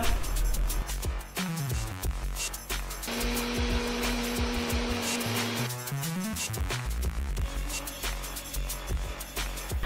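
An electric blender whirs loudly close by, mixing mango milkshake with cardamom powder, with a steady motor drone whose pitch shifts midway as the load changes, then continues churning.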